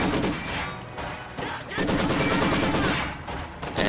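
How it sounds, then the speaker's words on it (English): Machine gun fire in the Company of Heroes 2 strategy game, with dense, loud rattling bursts that run almost continuously, broken by a few short gaps. "And yeah, Juicebox is kind of stuck around the machine guns"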